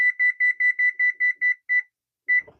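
A kitchen timer beeps in a loud, steady run of about nine evenly spaced double beeps, then pauses and gives one more beep, with a soft clatter at the end, during peanut butter blossom cookie baking.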